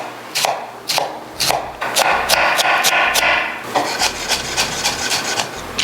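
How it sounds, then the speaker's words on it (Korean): A knife finely chopping onion into a brunoise cut on a board for shrimp wonton soup, giving a run of quick, crisp close-up chops and scrapes in uneven rhythm with no talking. "양파 같은 경우는 브루노 컷을 해주시는데 잘게 다져야 되기 때문에"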